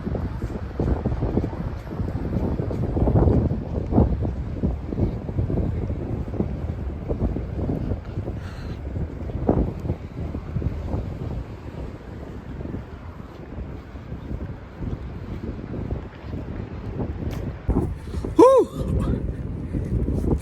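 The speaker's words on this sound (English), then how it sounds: "It's a little windy out here." Steady wind buffets the microphone outdoors in light drizzle, a continuous low rumbling roar with gusts rising and falling throughout, plus a brief faint whistle near the end.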